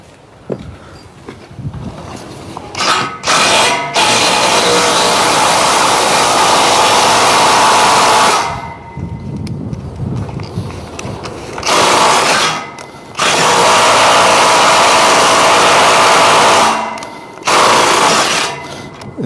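A Hilti hammer drill bores an anchor hole for a railing, running in long loud bursts of several seconds each with short pauses between them, the motor's harsh rattling drone held steady through each run.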